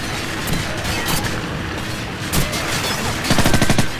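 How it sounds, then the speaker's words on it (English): A flashbang grenade goes off in Call of Duty 4 Modern Warfare, a loud burst followed by sharp crackling gunfire and thumps throughout, with no talk over it. "Flashbang out."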